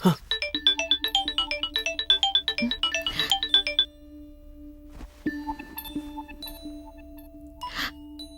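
A mobile phone ringtone for an incoming call in a Tamil movie scene plays a repeating bright electronic melody for several seconds, then fades into quieter tones and faint background sounds.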